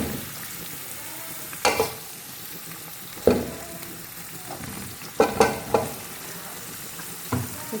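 Meat sizzles in a pan of browned onions for a Pakistani nalli nihari, steady frying hiss broken by a few sharp clatters of stirring, close and fairly loud, no speech.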